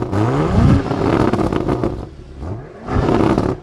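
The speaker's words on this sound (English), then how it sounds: "We'll go to the exhaust pipe and rev it." A race car engine at a hill climb revs loudly up close in two bursts, rising in pitch with a roaring, crackling exhaust and a short drop between.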